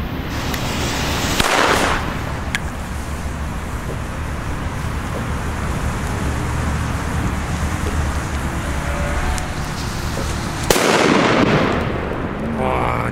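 A Cobra 1 firecracker bursts on New Year's Eve, two sharp loud bangs sounding about ten seconds apart over a steady outdoor rumble, with no voices.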